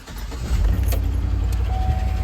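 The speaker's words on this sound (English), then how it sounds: "So you got the infamous Chevy Tick." A Chevy LS 5.3 V8 truck engine with DOD/AFM deleted idles with a steady low rumble, close and fairly loud, with a faint fast ticking in the valvetrain. No talk is heard over it.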